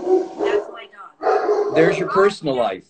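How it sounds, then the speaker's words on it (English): A dog barks indoors at home, a few short yappy barks breaking out partway through, mixed under a person talking close to the mic. "oh, that's my dog."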